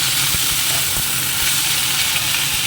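Thankuni leaves are stirred in a frying pan, making a loud, dense, close sizzle and hiss with faint periodic taps of the stirring utensil.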